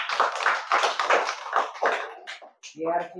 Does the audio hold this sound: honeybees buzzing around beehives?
no